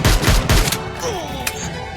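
Gunfire in a battle royale video game fight: three quick heavy shots in a rapid burst, then a softer ringing tail and a faint distant crack.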